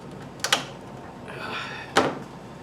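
A plastic door panel popper pries trim clips on a 2014 Chevy Sonic, giving two sharp clicking pops about a second and a half apart with a soft scraping rustle between them, close up.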